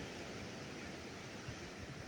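Strong ocean waves and wind on the coast of Jeju Island form a steady, dense roar of surf and gusting air, continuous throughout with no talking.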